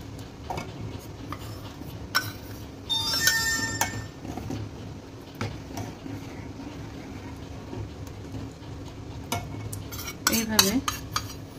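A spoon stirs milk with condensed milk in a pot while making Bengali-style kesari rasmalai, giving irregular scraping and clinking against the metal, with a few sharper taps and a steady low background throughout.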